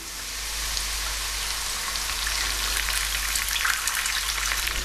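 Loud, steady hiss of water sizzling in a hot pan, continuous and close, with faint crackles and no voices.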